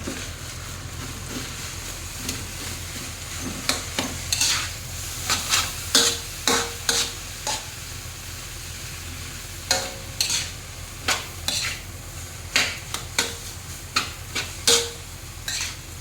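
A spatula stirs egg and seasoned rice together in a pan for Thai seafood fried rice, giving repeated scraping clinks over a steady low sizzle.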